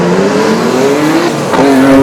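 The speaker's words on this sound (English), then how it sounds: "Straight off the green flag, it's a busy start for all the drivers as they muscle their way through the concrete line street course." Race cars roar off the green flag at the start of a street race on a concrete-lined course in Waimate, New Zealand, loud engines droning and rising in pitch with a brief tire squeal near the end.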